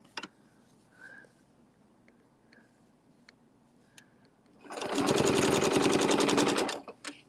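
A sewing machine stitches an appliqué in one steady, loud rapid run of about two seconds, preceded by a few faint clicks and taps in a quiet room.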